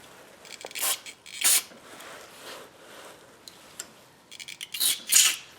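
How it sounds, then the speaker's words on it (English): Short bursts of aerosol carburetor cleaner hiss in quick succession into the holes of a 2012 Kawasaki KLX 250 motorcycle carburetor, two early and a cluster near the end, with faint clicks and handling noises between. "Just going to spray every hole, right?"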